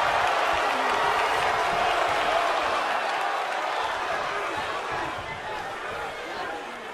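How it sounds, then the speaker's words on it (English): A virtual arena crowd in the WWE 2K22 wrestling video game cheers, chatters and applauds in a steady, dense roar that fades slightly toward the end. "The WWE Universe is showing their appreciation for the action they're seeing."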